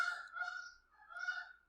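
Geese honk outside in two close, loud nasal calls, one after another, with no talk over them.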